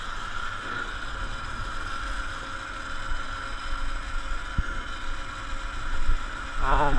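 Electric Sur Ron Light Bee fitted with a Kaniwaba power pedal kit, ridden at full throttle on a trail, giving a steady whirring drone with wind noise and a brief knock, getting louder toward the end.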